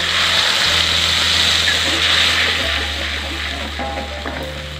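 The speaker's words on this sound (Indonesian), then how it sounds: "Sekarang tinggal kita tumis. Tumis bumbu yang tadi sudah dihaluskan." A blended ground spice paste for Betawi semur jengkol is sautéed in a pan, giving a steady broadband frying hiss over a low kitchen hum, with no voices.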